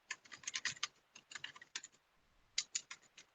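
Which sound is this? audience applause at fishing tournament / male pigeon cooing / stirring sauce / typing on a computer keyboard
typing on a computer keyboard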